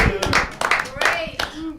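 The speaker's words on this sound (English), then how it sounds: "Let's have a nice round of applause for Kelly Anakin, everybody" Audience applause for a comedian at a live comedy show, a burst of close, dense clapping that swells in uneven waves while an emcee speaks over it.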